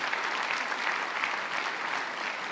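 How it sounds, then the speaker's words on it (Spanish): A Spanish-speaking church congregation claps for an elderly woman during a sermon, giving continuous, even applause that stays full and steady without a break, with no voices rising above it. "Un aplauso para usted, querida hermana."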